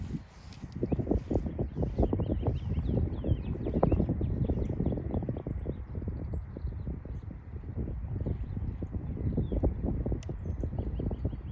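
Steady wind gusting against the microphone at an outdoor archery range, a continuous low rumbling roar with a few faint thumps and distant bird chirps.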